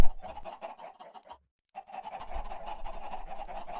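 Chickens in the Minecraft video game, repeated clucking and short breathy bird calls, steady and moderately loud, with a brief gap of silence partway through.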